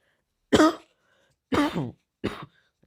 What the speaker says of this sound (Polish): Sorry, że kaszel.